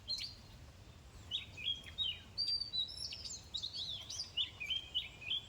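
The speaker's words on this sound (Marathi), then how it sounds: "पक्षी किती वराडतात बघा" Small birds chirp and tweet outdoors in short, bright bursts of calls that come again and again at a moderate distance over a faint, low background hum.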